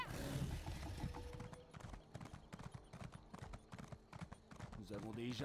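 A horse's hooves clip-clop in a quick, steady rhythm in The Elder Scrolls Online, loud and close, with someone talking over the galloping.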